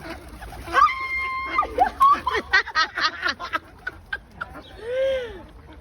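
Birds, pigeons and ducks crowding to be fed at a botanic garden, with nearby quacking and fowl-like calls in bursts, while people talk close by.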